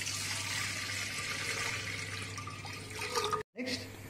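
Water, 1.5 liters of it, poured into a vessel for homemade rice wine: a steady splashing, gurgling pour over a low background hum, briefly cut off near the end.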